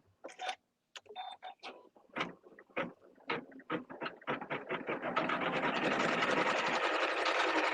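A sewing machine stipple quilts fabric, first with short, separate stitching bursts and then settling into a continuous, steady whir near at hand, with no talk.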